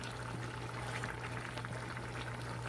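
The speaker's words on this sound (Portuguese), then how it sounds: "Ele já tá fritando." Beef steak and onions frying in a pan on a stovetop, a steady close sizzle and crackle running unbroken throughout with a low hum beneath.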